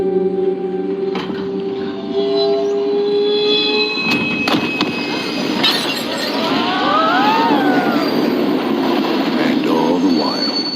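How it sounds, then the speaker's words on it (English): Train rolling on rails in an advertisement, a steady rumbling ride with clanks and faint wheel squeals, heard with other layered ad sounds. "And all the while, you were on the train home."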